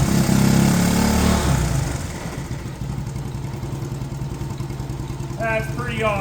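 A barn-find 1970 Honda US90 motorcycle engine runs at a steady idle, its low, even putter loudest at first and then settling slightly quieter, with a brief voice near the end.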